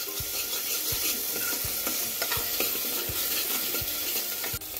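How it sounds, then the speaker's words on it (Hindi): Onions and grated ginger sizzle steadily in a pan while a spoon stirs them in regular scraping strokes, about one every three-quarters of a second, close and continuous for a Hindi-style lauki sabzi, with no talk. "फ्रेंड्स, ये प्याज भून चुका हुआ है"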